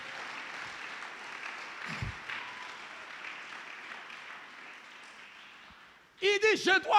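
A church congregation applauding the Lord, a sustained wash of clapping from many people at moderate distance, fading out before a voice speaks near the end.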